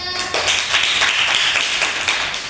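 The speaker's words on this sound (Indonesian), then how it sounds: "tepuk tangan dong buat temannya" A physics class claps for a fellow student after she finishes presenting on light refraction, a dense burst of many hands starting sharply and continuing steadily at close range.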